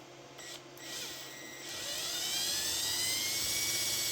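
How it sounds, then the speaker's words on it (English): A power drill whirs steadily while boring into material for a 3D printer direct-drive mock-up, its high-pitched whine rising and growing louder and more strained after a couple of seconds, close up with no talking. "I was trying to be careful because the drill will totally rip this out of my hands and hurt me."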